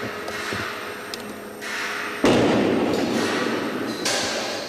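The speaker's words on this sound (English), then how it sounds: "As the strains increase, the structure responds with eerie creaks," A large precast concrete test building strained under heavy actuator loading gives off scattered creaks and sharp cracks, then a sudden deep boom that leaves a sustained rumbling roar, all without voices.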